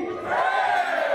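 Wedding guests shouting a loud, unified hooray in response to a toast, a short swelling crowd cry that holds briefly.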